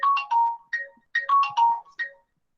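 A mobile phone ringtone plays two short repeated melodic phrases, clear and close, separated by a brief pause and then fading to silence.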